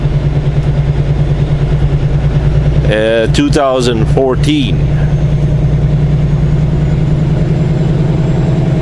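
A 2014 Kenworth T680 truck engine idles with a steady, deep, low rumble that runs unbroken from start to finish, while someone talks briefly over it in the middle.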